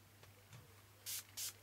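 Two short bursts of black and pink spray paint hissing from an aerosol can onto a recycled tailor's mannequin, each about a quarter second, close and sharp against a quiet background.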